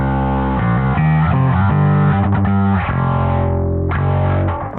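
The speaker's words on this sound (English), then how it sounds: "I love the distorted tone that I'm getting." Distorted electric guitar riff played through a Neural DSP Quad Cortex, loud and sustained with chugging palm-muted notes and ringing chords, no voices over it.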